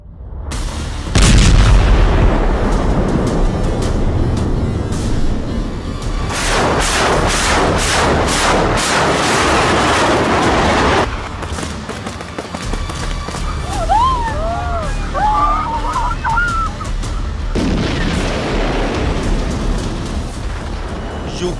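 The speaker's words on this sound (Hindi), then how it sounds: "यूक्रेन के शहरों पर रूस के बम कहर बनकर गिर रहे हैं।" Loud bombardment and gunfire from the Russia-Ukraine war strike Ukrainian cities: heavy booms and rumbling bursts fill the clip, easing briefly midway while a wavering, wailing tone rises and falls before another strong blast returns.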